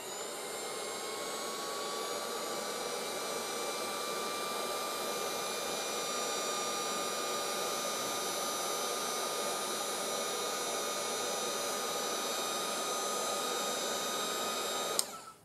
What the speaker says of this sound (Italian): Vado a imbossare anche questo col mio phon.